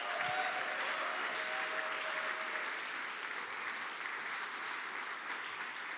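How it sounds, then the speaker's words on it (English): At a book award event, the audience gives the authors a sustained round of applause, an even, dense wash of clapping heard from a slight distance and lasting throughout. "Let's give them another round of applause"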